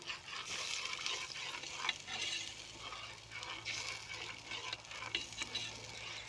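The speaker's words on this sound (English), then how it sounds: "Bit of red wine. Let me stir that around a little bit." Red wine stirred around a frying pan to lift browned onion bits for a rabbit stew: a steady, continuous sizzle with soft scraping of the spoon throughout.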